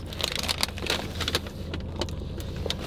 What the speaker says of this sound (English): My car's still running.